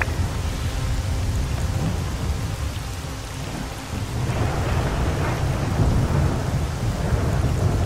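Heavy rain pours steadily while thunder rumbles low and continuous, swelling louder partway through, in the video game S.T.A.L.K.E.R.: Call of Pripyat; no one speaks.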